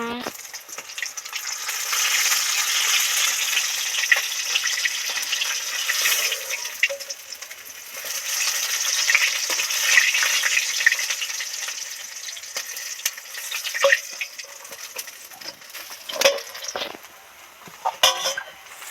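Bhetki fish pieces deep frying in oil give a loud, continuous sizzle that swells and fades, with sharp clinks and scrapes toward the end as the pieces are lifted out.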